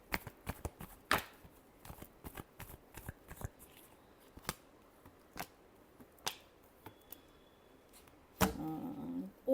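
Tarot cards are shuffled by hand in a series of crisp, quick riffles and taps, spaced irregularly and close up, ending in a louder burst of card handling.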